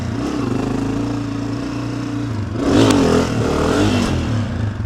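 A motorcycle engine revs during a wheelie attempt, a rough idle rising into a louder surge of throttle midway, then settling into a sustained, slightly uneven drone.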